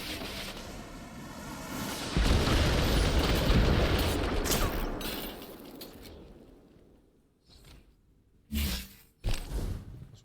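Grenade explosions in a video game, starting with a loud sustained roaring blast with crackling debris that slowly dies away, then two sharper bursts close together near the end.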